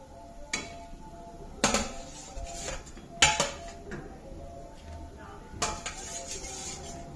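Fish pieces are added one by one to a pot of spiced gravy, producing four or five separate, close metallic clanks of pot and utensil with quiet gaps between them.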